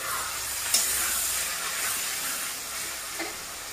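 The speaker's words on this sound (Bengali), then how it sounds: "ততক্ষণ কড়াটাকে এইভাবে মশলাটাকে নাড়িয়ে যাব কন্টিনিউ" Masala cooking down with tomato in a kadai for a Bengali prawn curry, a steady sizzling hiss broken by a sharp scrape at the start and light stirring scrapes later, no talking.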